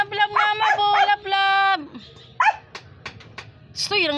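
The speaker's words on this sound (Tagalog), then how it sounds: "Tahol ng tahol! Aso ka talaga, aso." A dog nearby barks and yips loudly in quick bursts, mixed with high whining cries and short pauses between outbursts, while a person's voice is also heard.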